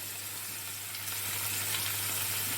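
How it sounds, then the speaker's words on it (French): Onion sizzles steadily in a hot pan, a constant bright crackling hiss with a low hum beneath, close and without talk. "Et là, je vais ajouter mon oignon."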